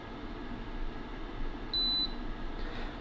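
A child lock on an Aurora Aqua Optima hot and cold water dispenser gives one short, clear electronic beep over a quiet hum in the room.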